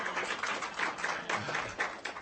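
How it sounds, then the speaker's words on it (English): An audience at a school board meeting claps faintly and briefly. The pats come in a quick, uneven patter that stays distant and soft throughout. "that's great time for applause"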